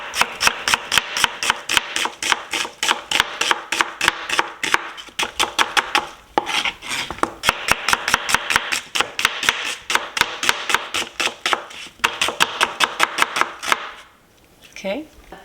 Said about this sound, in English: I'm going to slice the onion.